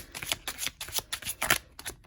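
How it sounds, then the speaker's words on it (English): Tarot cards being shuffled by hand in quick rhythmic bursts of riffling and flicking, close and crisp, about seven or eight strokes with no talking. "1 more shuffle for pile number 1, please, universe"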